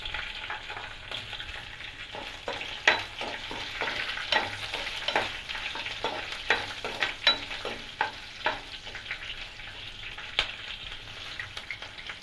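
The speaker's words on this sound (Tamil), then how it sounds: "பச்சை மிளகாய் பச்சை ஸ்மெல்லாம் போகட்டும். லைட்டாக வறுத்து எடுத்துக்கலாம்." Green chillies and ginger fry in a pan, a steady sizzle broken by repeated scraping strokes of a spoon stirring at an irregular rhythm, close and moderately loud, with no voices.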